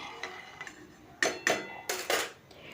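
Potatoes and mushrooms being stirred in a pot, with a handful of sharp metallic utensil scrapes and clinks against the pot rim, loud and close, separated by short quiet gaps.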